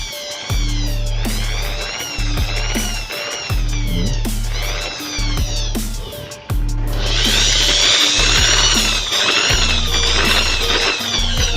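An electric drill runs smoothly after its loose screw is tightened, heard in repeated bursts of high whirring: three short runs, then a longer, louder spin, each stopping abruptly with brief pauses between.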